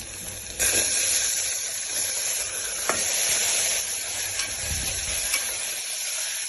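Mixed vegetables fry in a pan for a restaurant-style curry, giving a steady, loud sizzle and hiss throughout with occasional stirring scrapes and clinks.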